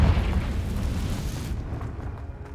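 A fire spell explosion in the video game Hogwarts Legacy erupts as one loud, deep boom at the start and then rumbles and fades away over about two seconds.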